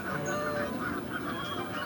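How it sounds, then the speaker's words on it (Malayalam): Cartoon baby birds cry loudly and continuously in a shrill, honking chorus with no pauses. "പൂച്ചയെ കണ്ടതും പക്ഷിക്കുഞ്ഞുങ്ങൾ ഉച്ചത്തിൽ കരയാൻ തുടങ്ങി"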